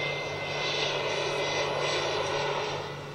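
An airplane engine drones steadily overhead, a broad continuous roar with a low steady hum beneath, holding level before easing off near the end.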